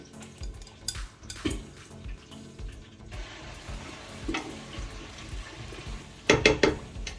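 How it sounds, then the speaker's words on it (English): Abacha African salad with Cameroon pepper being stirred and mixed in a bowl, giving a soft, steady scraping and wet tossing texture with a few louder clinks of the spoon near the end. "just give that a good mix or a good stir"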